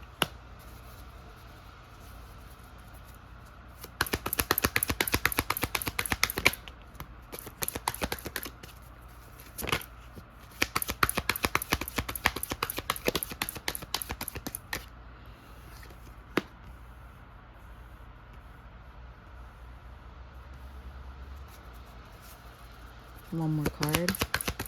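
A tarot deck is shuffled in several quick, crisp, riffling bursts, close and fairly quiet, separated by pauses, with a soft voice speaking at times.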